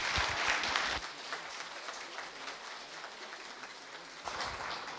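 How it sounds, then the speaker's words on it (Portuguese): Applause breaks out in a council chamber during an ordinary session, honouring an 11-year-old boy named Pedro. It is loud at the start, eases to a softer steady clapping and swells again near the end, with no voices over it. "nossos aplausos"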